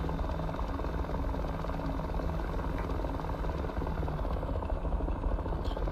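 An AH-6J Littlebird helicopter flies in the DCS combat flight game, its rotor and engine a loud steady drone that holds unchanged throughout with no talking.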